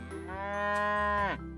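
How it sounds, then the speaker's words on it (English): A cow on a farm gives a single loud, close moo lasting over a second, its pitch rising and then bending down at the end, heard with no speech. "There were 3 cows on a farm."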